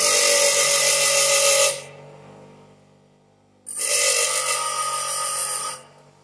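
A drill bit is sharpened on a bench grinder in two loud, sustained bursts of harsh, hissing, whining grinding, separated by a quieter spell in which the wheel hums on as it spins down.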